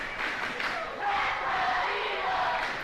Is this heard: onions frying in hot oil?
no